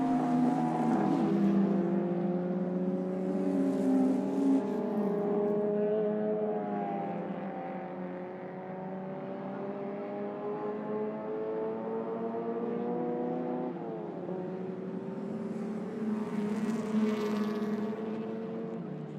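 Historic race cars lap Mondello Park circuit, a steady droning engine note holding and shifting in pitch as the cars pass at moderate distance before a second car's tone joins and fades.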